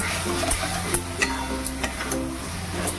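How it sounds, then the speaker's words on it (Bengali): Potato and pointed gourd pieces sautéed in a spice masala for a vegetarian curry, with a continuous close sizzle and frying hiss broken by sharp clicks of a spoon scraping and stirring the pan. "আমি এবার এই সময়তেই দিয়ে দেবো আলু পটলটাকে দিয়ে আরও 5 মিনিটের মতন এই মশলার সাথে কষিয়ে নেব"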